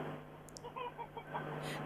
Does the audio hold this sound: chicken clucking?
yes